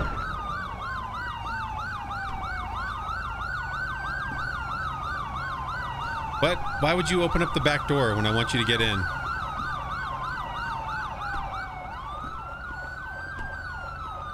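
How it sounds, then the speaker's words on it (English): An emergency vehicle siren from the LSPDFR police game wails in steady rising and falling sweeps, briefly switching to a rapid yelp midway, while someone talks over it. "Alright, that's my siren, I'm pretty sure."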